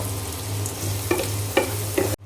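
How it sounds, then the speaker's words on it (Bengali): Onions and spices fry in oil as a masala is sautéed in a pan, a loud continuous sizzle broken by a few clunky stirring scrapes before cutting off abruptly. "তো এখানে এই যে মশলা কষানো হচ্ছে, আমি পেঁয়াজ ভাজি করা হয়ে গেলে তারপরে বাকি মশলা দিয়ে দিয়েছি।"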